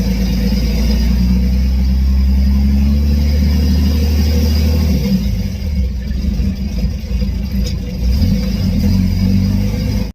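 A classic Isuzu TX truck drives along, its engine giving a loud, continuous low rumble that shifts in pitch midway as the gears change.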